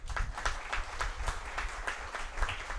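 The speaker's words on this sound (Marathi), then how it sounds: "कानडे सरांसाठी एकदा जोरदार टाळ्या वाजा" Audience applause at a lecture session on Nobel laureates, a steady wash of many hands clapping in a hall, moderately loud and continuous throughout with no talk over it.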